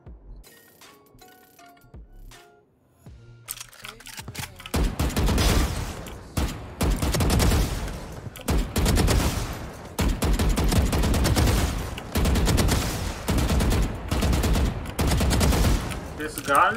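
Rapid bursts of automatic gunfire from a Valorant match, loud and close, coming in repeated volleys with brief gaps, preceded by a quieter stretch of faint clicks and handling noises.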